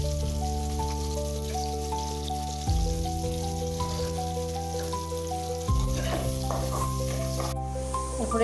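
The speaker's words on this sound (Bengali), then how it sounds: "এই তো সুন্দর মতো পেঁয়াজগুলো ভেজে নিয়েছি" Onions and green chilies fry in a pan, giving a steady crackling sizzle that runs throughout with occasional stirring, while a drawn-out musical tone plays underneath in shifting steps.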